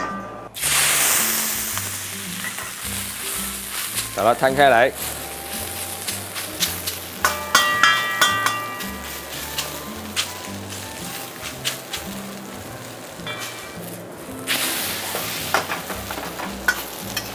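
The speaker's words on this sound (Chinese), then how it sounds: "就是面已经被你煎得有点脆脆的" Noodles pan-frying in hot oil in a wok give a steady sizzle, broken by scraping and stirring strokes, with a person talking over background music.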